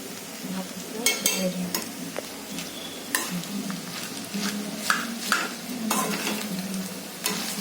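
Vegetable fried rice stirred in a pan with salt added, a spatula scraping and turning the rice in repeated strokes over a light sizzle, with occasional clinks of metal.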